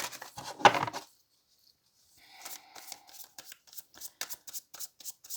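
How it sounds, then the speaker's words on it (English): A tarot card deck is riffled in a brief papery burst, then falls silent before a run of soft, rhythmic card taps and shuffles close by. "then I'll cut the deck."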